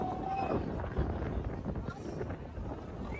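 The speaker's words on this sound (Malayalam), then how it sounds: "നല്ല കാറ്റുണ്ട്." Steady wind gusting across an exposed hilltop at Nandi Hills, a continuous broadband rush that swells and eases over a few seconds, with faint talk underneath.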